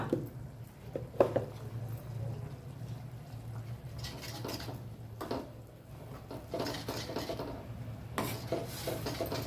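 A utensil scrapes and clinks against a pan as spices are stirred into an eggplant curry. The scraping comes in irregular strokes over a low background hum, fairly quiet, with no one talking.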